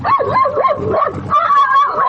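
A dog barks and yips in a quick series of whining, rising-and-falling calls, close and loud, in an old radio mystery drama, with no talking over it.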